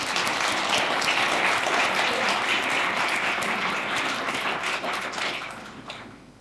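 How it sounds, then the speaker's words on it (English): Dense applause from a large conference keynote audience, loud and sustained, then fading out over the final second. "Give yourselves a round of applause."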